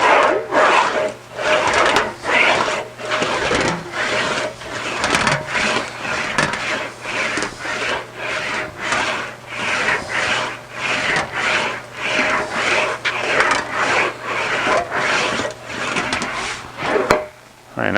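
English wheel rolling sheet metal back and forth, a rhythmic series of raspy rolling strokes about once a second, steady and close, repeating throughout with brief pauses at each reversal.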